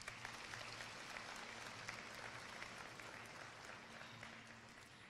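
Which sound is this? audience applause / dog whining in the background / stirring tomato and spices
audience applause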